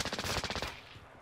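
Automatic gunfire from the video game Modern Warfare during a search and destroy match: a rapid, close burst of shots lasting under a second, then a quick fade.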